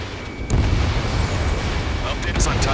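A destroyed vehicle explodes in the combat flight game Ace Combat 7, a loud sustained rumbling boom that starts abruptly and fills the whole moment.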